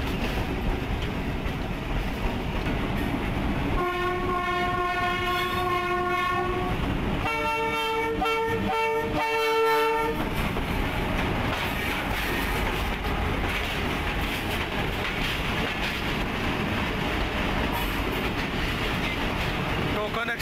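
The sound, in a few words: Pakistan Railway train moving onto station loop line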